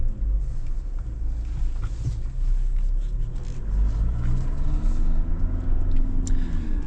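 A GWM Tank 300 2.4 diesel SUV creeps down a steep hill, its engine a steady low rumble with faint drivetrain whine rising and falling throughout, close and continuous with no talking.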